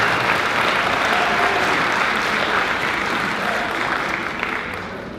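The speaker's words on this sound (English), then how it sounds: "I want to give them a round of applause" Audience applause fills a school auditorium during an 8th grade band concert, a steady dense wash of clapping that holds for about five seconds and tapers slightly at the end.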